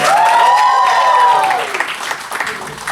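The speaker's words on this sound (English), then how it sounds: "Let's have a huge round of applause" An audience at a comedy show in Hyderabad applauds and cheers loudly, the clapping fading over a few seconds as a voice with a rising and falling whoop carries over it.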